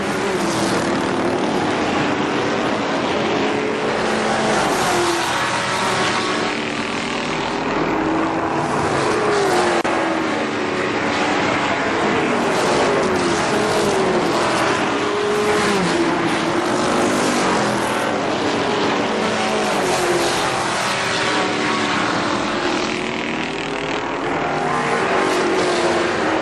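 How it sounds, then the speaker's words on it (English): ARCA SuperCars race cars roar around the Kil-Kare Speedway oval, a loud, continuous engine drone with rising and falling pitch as the pack passes in a close line, steady throughout without speech. "The rest of the cars running in a freight train about a half a lap behind this black 22 machine."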